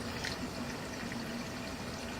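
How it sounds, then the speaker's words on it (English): Water from a kitchen tap runs down through a sewer drain line, a faint, steady pouring and trickling flow heard from inside the pipe. "So we're going to leave the water running for a second here in case there's a lot of buildup"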